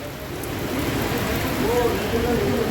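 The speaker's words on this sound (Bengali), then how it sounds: "মোটামুটি মাত্রায় বৃষ্টি হচ্ছে" Steady, moderate rain falls in a continuous, even hiss that fills the whole stretch, close and fairly loud, with faint tonal sounds rising in the latter half.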